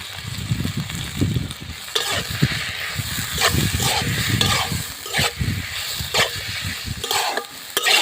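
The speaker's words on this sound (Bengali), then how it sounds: "ভালো করে আমি সবগুলাই কষিয়ে নেব।" An egg and tomato mixture with salt and turmeric frying in a pan, with a steady sizzle under repeated scraping and stirring strokes of a utensil, close and fairly loud throughout.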